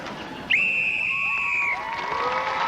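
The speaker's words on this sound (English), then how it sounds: "Blow the whistle." A single sharp whistle blast opens a circus show, loud and steady for about a second before crowd noise and other sounds rise behind it.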